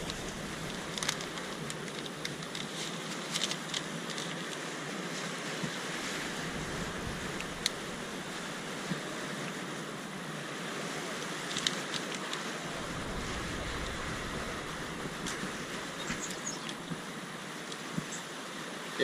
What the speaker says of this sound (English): I don't know if the wind's going to be too strong.